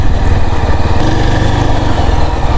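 A Yezdi Adventure motorcycle engine runs loud and close, giving a steady buzzing drone under throttle that holds an even pitch without clear rises, with no talking.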